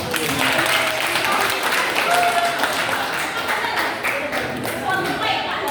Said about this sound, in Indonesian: tepuk tangan dulu aku.